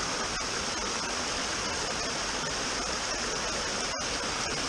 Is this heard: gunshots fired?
no